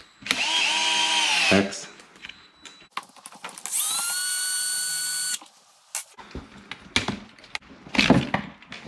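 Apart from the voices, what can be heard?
power driver undoing the links with a 2.0 millimeter bit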